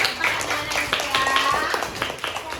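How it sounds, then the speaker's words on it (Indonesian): A school class claps hands during a lesson, a dense run of quick, uneven claps from many pupils filling the room, with children's voices chattering underneath. "Nah, tepuk tangan"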